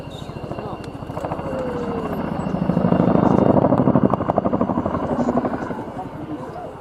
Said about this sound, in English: And here they go, ladies and gentlemen, the 2018 Chinook display team.